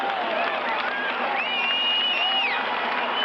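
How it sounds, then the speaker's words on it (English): A large stadium crowd cheers and applauds in anticipation before Evel Knievel's 1976 motorcycle jump in Seattle, a dense, steady roar with whistles rising above it throughout. "Crowd cheering in anticipation."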